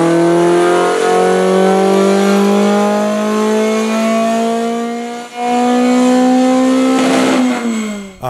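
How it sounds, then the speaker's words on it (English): A loud, sustained Toyota 2AR car engine drone held under load on a dyno, pitch slowly climbing, with a brief dip and a rasp near the end before it drops off. "we run that again on the dyno and we get this wonderful exhaust note right here"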